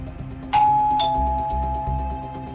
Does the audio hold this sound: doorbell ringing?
yes